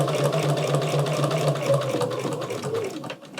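A sewing machine stitches straight quilting lines with a 2.5 stitch length and an 80/12 needle. The close, steady whirring hum eases off and slows near the end, with no talking.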